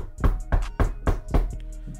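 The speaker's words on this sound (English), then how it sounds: "They knocked on the front door." Five firm, evenly spaced knocks on a front door ring out, close and clear with no voices, followed by a softer trailing tap.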